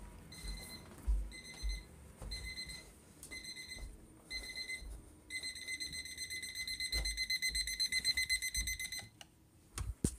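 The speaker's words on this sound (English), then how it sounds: "There's an alarm going off in my house somewhere." A household alarm beeps in repeated bursts, first in short separated pulses and then in a longer rapid run, fairly faint and alone, ending abruptly.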